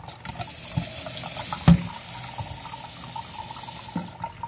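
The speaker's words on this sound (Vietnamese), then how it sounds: "xả nước vô đổ nước ra là xả nước mới vô" Tap water running and splashing while a shrimp and crab tank has its water changed at a pet shop, a steady close flow with a few louder splashes and knocks, no talking.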